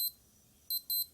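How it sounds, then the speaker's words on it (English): A Casio LF-30W digital watch sounds its alarm: three short, high, clean electronic beeps, one at the start and two closer together near the end, quiet and close with near silence between. "It will give beeping sound like this one."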